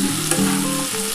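Potatoes and bitter gourd sizzling in oil in a pan for a Bengali chorchori, a continuous close frying hiss with a light scrape of stirring.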